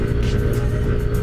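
A Yamaha NMAX scooter's exhaust gives a brief, loud, close engine rumble with a rough, pulsing texture.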